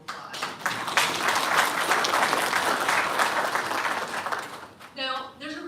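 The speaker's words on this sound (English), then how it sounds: "give yourself a round of applause" A crowd of graduates at a pharmaceutical sciences convocation applauds in sustained, dense clapping for about five seconds, then fades as a voice begins speaking.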